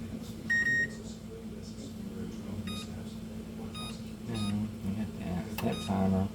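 A kitchen timer beeps while pasta cooks, giving a short electronic tone near the start and fainter beeps later, all under steady conversation and kitchen noise.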